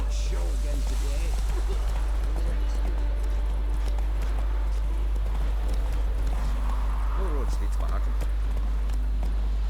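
Roach the horse galloping in The Witcher 3, with steady, rhythmic hoofbeats close by over a constant low hum, mixed under a voice.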